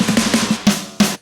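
Layered drum loop with snares and fill snares from an electronic track in FL Studio, punchy repeated hits in a quick rhythm with two loud snare cracks near the end, played alone.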